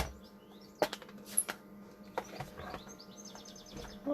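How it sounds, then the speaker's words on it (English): A bird outside keeps chirping and tweeting in quick faint runs, far off, mixed with nearby taps and clicks over a constant low hum. "Wow, you're a busy bird today, tweeting away."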